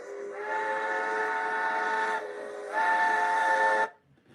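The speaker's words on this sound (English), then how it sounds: "The whistle's blowing." A steam train whistle sounds loud and close in two long chord-like blasts, the second slightly higher and stronger, then cuts off sharply.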